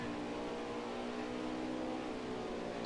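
Engines of RC race cars at an Indy oval Xfinity-style race hum steadily while coasting in a higher gear, a faint continuous droning whine with no talk.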